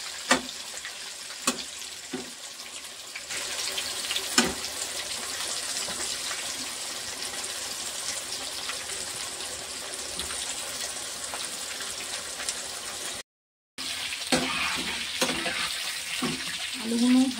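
Potatoes frying in a pan for mutton curry, a continuous close sizzle with occasional clinks and stirring scrapes over several seconds and a short gap partway through.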